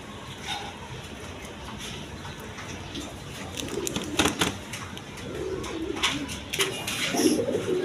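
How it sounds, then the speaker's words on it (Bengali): A pair of big tulip pigeons coos softly in low, repeated murmurs against a faint, steady background hiss. "দর্শকবিন্দু এখানে এক পেয়ার টিউলিপ কবুতর আছে দেখেন টিউলিপ কবুতর একদম বিগ সাইজের"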